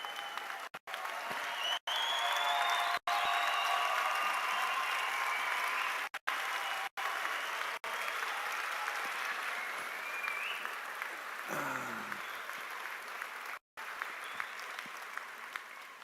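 Applause and cheering from graduates, family and friends at a university sciences graduation ceremony, a steady crowd wash heard from a distance with brief dropouts, some whistles and a passing voice mixed in.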